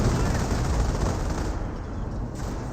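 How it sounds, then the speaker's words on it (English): A 25-pounder artillery barrage in the video game Company of Heroes rolls on as a loud, dense, continuous rumble of overlapping blasts and gunfire, with a brief easing toward the end. "I think that's probably a regular 25-pounder barrage"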